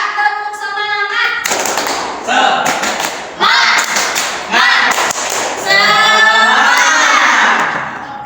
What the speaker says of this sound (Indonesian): Supaya semangat, kita tepuk semangat dulu yuk.